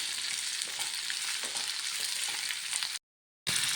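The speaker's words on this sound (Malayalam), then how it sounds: "നമുക്ക് ഇതിലേക്ക് ഇട്ടിട്ട് ഒന്ന് വഴറ്റാം നല്ലോണം ഒന്ന് വെന്ത് വരണം പച്ചമുളക് നല്ല വെന്ത് വാടി വരണം" Home-grown green chillies sauté in a pan for pickle, a loud, dense, close sizzle with faint stirring that cuts out briefly before resuming.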